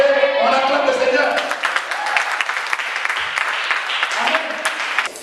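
A church congregation bursts into applause and cheering in acclamation of the Lord, a dense sustained clapping from a crowd with voices calling out over it.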